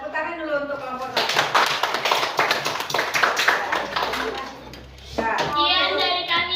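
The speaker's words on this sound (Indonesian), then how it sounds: "Tepuk tangan dulu untuk kelompok 1." Classroom students clap for a presenting group in a lesson, a burst of many small hands clapping that stops briefly before children's voices take over, with talk at the start and end.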